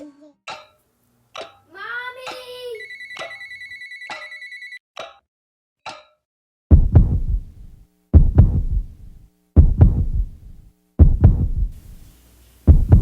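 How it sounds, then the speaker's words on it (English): Heavy heartbeat thumps pound in a slow, steady rhythm, loud and close, after a telephone ringtone and a few brief voices. "I can feel the thumping of my heart in my head"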